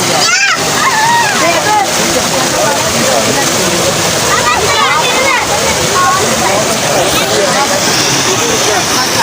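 People splash and plunge into water while bathing, with churning, sloshing water continuously loud and close, under lively voices and shouting.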